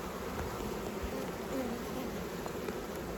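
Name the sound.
honey bees foraging at hive entrance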